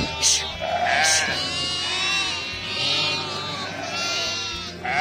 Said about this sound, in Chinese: 下一秒还咩咩咩